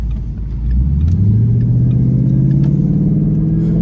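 A supercharged Ford Mustang Mach 1 engine with an Edelbrock supercharger revs up hard and holds a loud, rising roar, its pitch climbing steadily as it accelerates close by.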